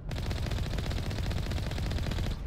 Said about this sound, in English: I wonder if I can just blow him up with my gun.